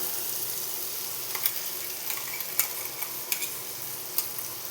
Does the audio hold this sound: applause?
no